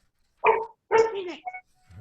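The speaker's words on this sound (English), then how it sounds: "dog" A dog barks twice close to the microphone during a Torah study session, one short bark followed by a longer one that trails into a whine, with a near-silent pause between them.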